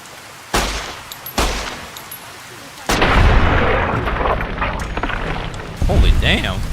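Gunfire and explosions from the video game Fallout New Vegas: two sharp blasts ring out early, then a sustained roar of heavy firing and detonations with faint voices mixed in.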